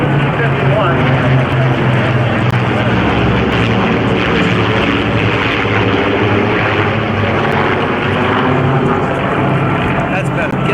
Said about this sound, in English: directly to our rear, making an approach, is the B-17, and cutting across the front of that airplane is the P-51